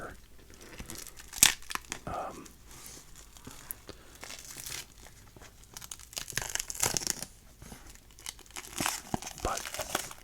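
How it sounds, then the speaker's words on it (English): Cellophane wrapper torn and peeled off a sports card wax box, crisp crinkling and tearing in close, uneven bursts with sharp rips, heard alone in a quiet room. "get this cellophane off of here"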